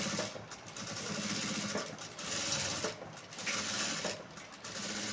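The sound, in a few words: sewing machine stitching a blouse patti piece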